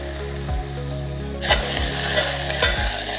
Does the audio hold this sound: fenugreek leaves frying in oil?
yes